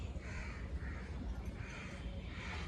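Crows caw at a shraddh offering in India, where food is set out for them: several harsh caws, a few in a row then more after a pause, moderately near over steady outdoor background noise.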